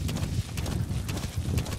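Horse hooves clip-clopping at a steady trot in the Metal Gear Solid V video game, a quick regular rhythm of hoofbeats, moderately close and fairly quiet.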